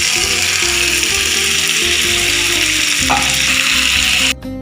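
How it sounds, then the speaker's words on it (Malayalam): Chicken sizzles loudly and steadily in a hot pan with curry leaves while a Hyderabad-style chicken fry is cooked, the frying hiss continuous before cutting off abruptly at the end. "നമ്മൾ മാറ്റി വെച്ച ചിക്കൻ അതിലേക്ക് ചേർത്ത് കൊടുക്കാം."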